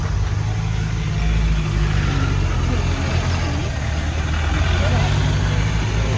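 Vehicles pass on a hill road in Nelliyampathy, producing a continuous low engine rumble and road hum that stays steady throughout.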